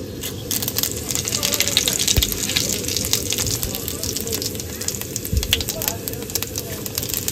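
Whole cumin seeds and dried chillies sizzle and crackle in hot oil in a cooking pan, a dense, steady hiss close by with occasional pops, while people talk over it.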